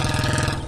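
A motorbike engine runs close by, a steady loud chugging drone with a fast regular pulse. No one speaks.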